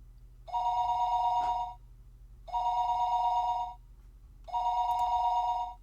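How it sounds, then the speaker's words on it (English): A telephone in the Higurashi When They Cry game rings three times in evenly spaced trilling bursts about a second long, with quiet pauses between them over a faint low hum. "The phone rang for a third time."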